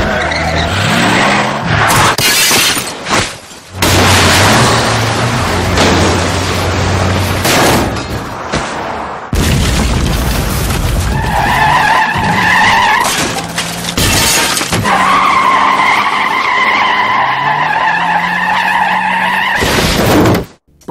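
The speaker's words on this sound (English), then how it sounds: "Stewie then causes this ridiculous traffic jam pileup" A cartoon highway pileup from Family Guy: loud screeching tire skids, crunching impacts and shattering glass pile up one after another, with sustained squeals and crashes that fill the whole stretch before cutting off.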